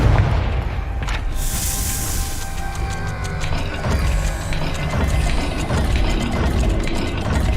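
A Confringo blasting spell in Hogwarts Legacy sets off a booming explosion followed by rumbling, mechanical grinding and clanking, all steady and fairly loud, with no speech.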